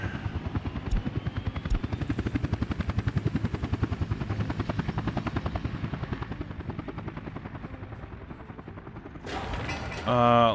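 A construction helicopter in the Workers & Resources: Soviet Republic game flies with a steady, loud rotor chop that pulses fast and even and fades slightly over time, then a sharp burst of mechanical clatter comes at the end.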